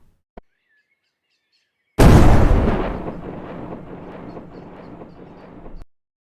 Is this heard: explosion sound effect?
yes